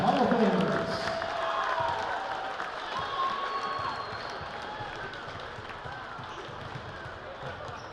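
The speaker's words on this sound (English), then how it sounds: "Let's have a round of applause for these future Bobcat Hall of Famers." Crowd applause in a gym at a Brookings Bobcats boys varsity basketball game against the Huron Tigers, a steady sustained clapping wash with a louder burst at the start, mixed with scattered court and crowd noise.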